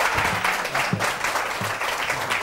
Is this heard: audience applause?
yes